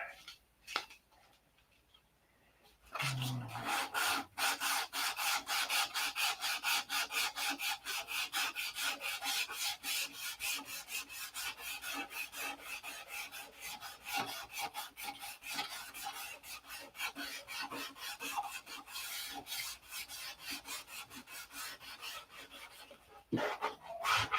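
Fine 600-grit sandpaper rasps rapidly back and forth over a P-47 scale model, a quiet moment giving way to a long, steady run of close, rhythmic scrubbing strokes.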